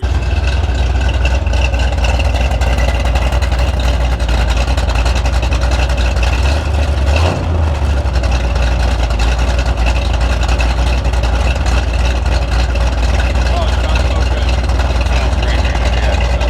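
A Corvette engine with a tuned exhaust idles loudly and steadily, a deep, throaty rumbling low exhaust note that swells briefly midway.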